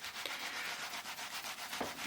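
Hands rub wool-wrapped soap to felt it, a soft continuous swishing friction with gentle rhythmic pulses, close but quiet, heard alone without speech.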